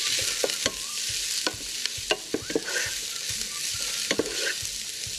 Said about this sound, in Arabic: بدي أجيب ملعقة بلش حرك المكونات كله